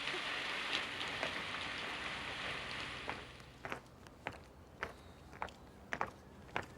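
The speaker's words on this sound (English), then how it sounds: "Damn rain." Steady rain pouring down outdoors, a dense even hiss that thins after a few seconds into scattered heavy drops striking a surface nearby.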